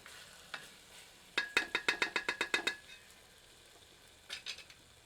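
Goat meat with spices fries over medium heat for a Pahadi mountain-style mutton curry: a quick run of about nine crisp scraping stir strokes over a faint sizzle, then a short, softer pair near the end.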